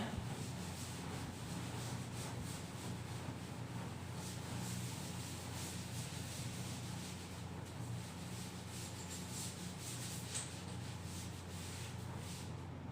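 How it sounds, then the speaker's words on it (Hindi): Board eraser rubbing out chalk writing during a Class 10 maths lesson on polynomials, a steady continuous scrubbing hiss lasting throughout with no speech over it. "चलिए अब इसको रब कर दे रहा हूं मैं"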